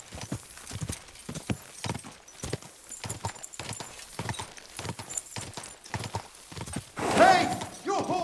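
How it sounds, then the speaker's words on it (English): Horse hooves clip-clop in a steady rhythm in the video game Kingdom Come: Deliverance II, and a horse whinnies loudly near the end. "Your horse nearly trampled me!"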